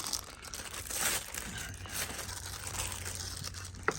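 Plastic bags rustle and crinkle continuously up close, with soft crumpling bursts and a low hum underneath.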